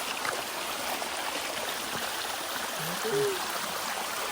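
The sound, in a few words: stream of water at Bayyaram waterfalls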